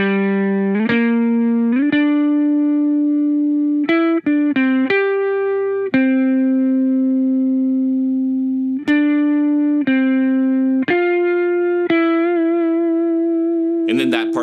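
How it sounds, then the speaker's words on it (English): Electric guitar with effects playing the chorus part of a song, a sustained melodic line of held notes changing pitch every second or so, loud and clean with reverb tails and no talking. "altogether, that chorus part sounds like this."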